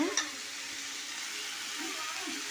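Turkey berries (sundakkai) fry with a steady broadband sizzle in a pan as they are stirred, a brief scrape near the start and soft clatter of the spoon later, fairly close and even throughout.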